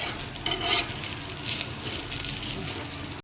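Spice masala with ginger roasting and being stirred in a pan, a dense close sizzle with constant scraping and rustling, loud and unbroken with no voices.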